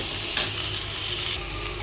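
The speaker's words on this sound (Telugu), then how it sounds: "టమాటాలు అయితే వేసేస్తున్నా. టమాటాలు కొద్దిగా ఫ్రై అవ్వాలి." Tomatoes and ginger garlic paste frying in a cooker give a steady, close sizzle, with one brief scrape of stirring near the start.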